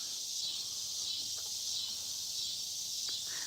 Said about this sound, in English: You guys, the cicadas are good.